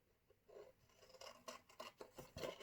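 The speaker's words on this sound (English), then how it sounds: "I'm going to cut another one out of my silver card" Scissors snip through silver card in a quick series of close, crisp cuts that grow louder toward the end, with no talking.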